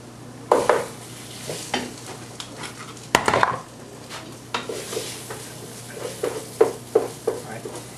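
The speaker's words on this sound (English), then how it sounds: "Now we're just going to go ahead and mix it." A Bolognese sauce with tomato paste is stirred and fried in a pan, with scraping knocks of a spoon against the metal in an irregular rhythm over a steady low sizzle, close up.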